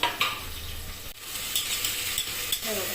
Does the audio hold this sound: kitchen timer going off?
no